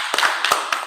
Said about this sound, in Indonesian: terima kasih untuk tepuk tangan buat semuanya